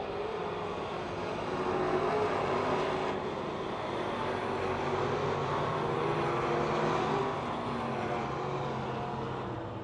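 Race cars roaring around Pennsylvania Motor Speedway on the final lap, a steady, loud, dense engine drone that swells and holds throughout with no clear break, heard from trackside.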